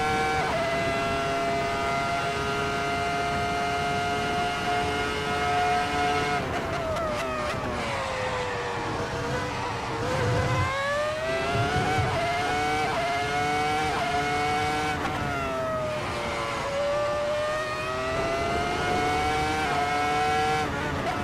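High-pitched wail of a Ferrari F2004 normally aspirated Formula 1 engine in a Kunos racing game, revving hard through upshifts and sweeping down on braking with tire squeal, with a voice talking over it throughout.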